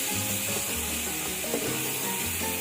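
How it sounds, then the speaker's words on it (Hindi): Two medium onions frying in a pan until light brown for mater pulao, giving a steady close sizzle with faint scraping and clinks throughout. "फिर मैंने प्याज डाला, इसके अंदर 2 दरमियाने प्याज हैं और इसको हम लाइट ब्राउन कर लेंगे"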